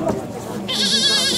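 A voice imitates a goat, giving one short, wavering bleat close to the microphone that lasts about a second.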